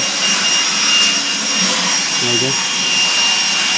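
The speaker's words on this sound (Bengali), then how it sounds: "কাজ চলছে মেশিন পিকারটা দেখিয়ে দিচ্ছি" A picker machine running inside a warehouse godown gives a loud, continuous mechanical roar and whine with a steady tonal hum, unbroken for the whole stretch and with no clear talk over it.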